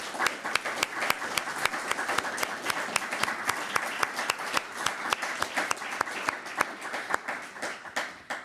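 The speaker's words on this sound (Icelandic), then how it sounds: "Ég held að þetta má klappa fyrir þeim." Steady applause from a crowd at a gathering marking six months since Russia's invasion of Ukraine, dense clapping with a few sharper claps standing out, continuing for several seconds with no talking.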